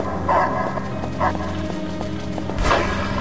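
Dogs barking in the video game Fragile Dreams: Farewell Ruins of the Moon, a few sharp barks spaced over a continuous ambient game soundtrack, fairly close and loud.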